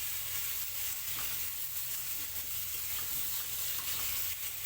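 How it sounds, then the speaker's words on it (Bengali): Diced potato cubes frying in hot oil on a new induction oven, a constant close sizzle with occasional stirring clicks throughout. "তেলের মধ্যে আলুগুলো খালি ফ্রাই করে নিচ্ছি।"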